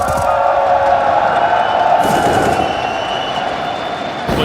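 Brazilian fans in a packed esports arena at a CS:GO major in Antwerp roar steadily, a dense, loud crowd cheer sustained throughout with a swell near the start.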